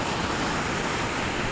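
Ocean surf breaking along a seaside road, a steady loud wash of waves filling the whole stretch with no break, roughened by wind noise on the microphone.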